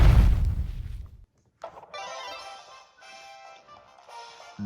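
A homing bomb explosion from the Kirby and the Forgotten Land video game: a loud, dense blast opens and decays over about a second, then after a brief gap bright crackling and sparkling game effects carry on alone.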